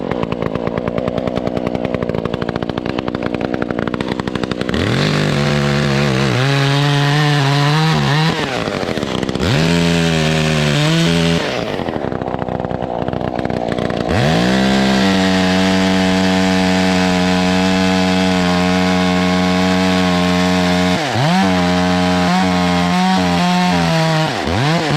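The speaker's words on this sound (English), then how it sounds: "Chainsaw will start." A loud chainsaw revs and bogs repeatedly as it cuts through a thick branch of a mature white oak, engine pitch rising and dropping between cuts.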